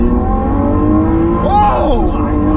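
A Lamborghini supercar engine drones loudly from inside the cabin, with a rising rev and a downshift blip around the middle. A voice talks over the engine noise.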